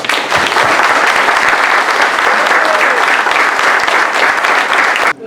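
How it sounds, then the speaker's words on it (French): A large gathering applauds steadily and loudly, dense sustained clapping filling the whole stretch before cutting off abruptly at the very end. "qu'on s'applaudisse toute la gang"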